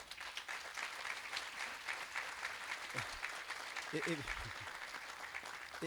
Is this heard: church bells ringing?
no